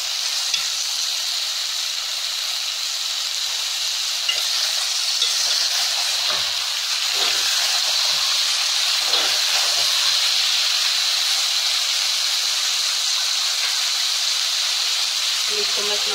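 Half a kilo of bottle gourd hitting a hot pan, giving a steady broad hiss and sizzle that lasts the whole stretch, with faint scrapes and a murmur of speech low underneath.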